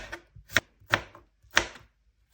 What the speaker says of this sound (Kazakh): Қиярды тураймыз.